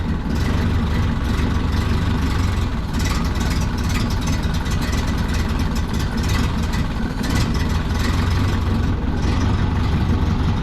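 A 1930 Ford Model A engine idles roughly and unevenly, a loud, dense low rumble that holds steady throughout, close by with no voices over it.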